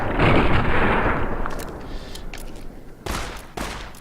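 Gunfire in Fallout: New Vegas, a heavy burst of shots opening the clip and fading into rumbling echoes, followed by two sharp, separate reports near the end.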